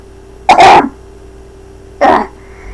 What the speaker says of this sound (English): I gotta clear my throat first before I do the reading.